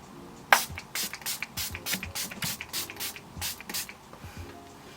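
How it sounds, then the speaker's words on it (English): Makeup Revolution setting spray spritzed onto a face, a rapid run of about a dozen short, crisp hissing pump bursts close up, with no talking. "So I'm just gonna spritz it on my face."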